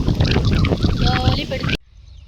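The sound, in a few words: wind blowing over farm field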